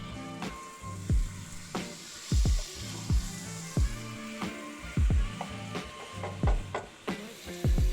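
Garlic paste fries in a modest amount of oil for Rajasthani laal maas, a soft sizzle punctuated by regular, loud scraping and knocking strokes of a spoon against the pan.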